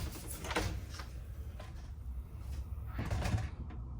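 Hinged entry door of a Winnebago Hike 172BH travel trailer being handled, with a few muffled knocks and thuds of the door and latch against a low background rumble, no speech.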